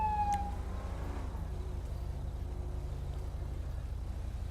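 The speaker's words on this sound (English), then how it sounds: "I'll kick on my siren for a second so you can hear it" A steady electronic police car siren in GTA V drones under a low engine hum, loud and continuous throughout, with a brief rising tone at the start.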